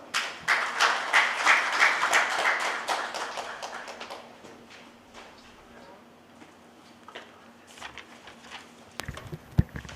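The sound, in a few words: audience applause welcoming speakers at seminar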